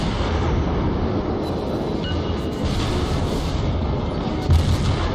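Warship secondary battery guns firing in World of Warships, a dense, continuous rumble of booming shots and low blasts running steadily throughout with a slightly heavier burst near the end.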